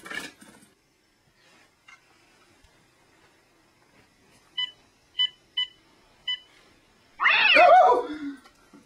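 A pet cat lets out a loud, harsh yowl near the end, after a few faint short bleeps and a quiet stretch, with no talking over it.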